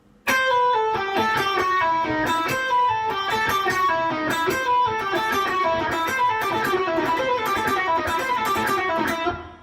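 An electric guitar plays a slow blues lick of single notes, using the flat 5 blues note, with a bending feel, clear and close with no voices.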